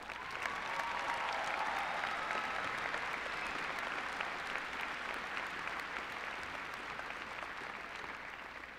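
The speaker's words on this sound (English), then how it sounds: "with a round of applause" A high school commencement crowd claps in a sustained, even wash of applause that stays fairly faint and distant throughout, tapering slightly toward the end.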